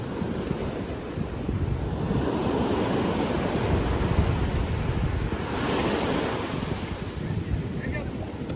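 Broadband surf washing steadily along an open seashore, loud and continuous with wind buffeting the microphone, building into a stronger surge midway before easing back.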